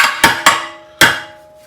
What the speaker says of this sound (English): So I'm going to take one of my body hammers and just kind of